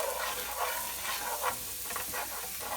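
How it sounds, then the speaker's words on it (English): Split peas sizzling and crackling in a hot frying pan while being stirred, a steady dense hiss with soft rhythmic scraping swells, close and alone. "So you're going to stir these for 7 to 10 minutes"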